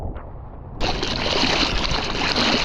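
Waves closing out at a beach, a loud rushing wash of surf that cuts in abruptly after a quiet moment and keeps churning steadily.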